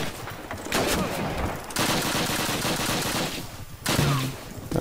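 Loud, rapid rifle gunfire in the Call of Duty video game, dense bursts of shots in long sustained volleys with brief pauses between them.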